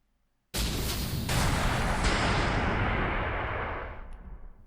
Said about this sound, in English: Explosions? Your Highness, the zombies are exploding randomly